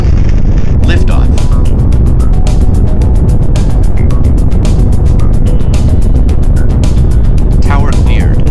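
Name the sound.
Saturn V rocket engines roaring at launch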